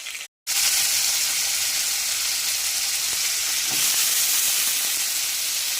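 Panch phoron spices sizzle loudly in hot oil, a dense close crackling hiss that follows a brief silence at the start and continues steadily, with a few faint pops and clinks.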